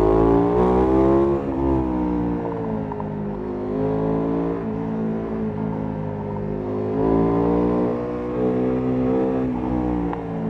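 A KTM 990 Duke motorcycle runs nearby with a loud, steady exhaust drone whose pitch rises and falls slightly through the whole stretch, with only faint hints of crackle and no talking.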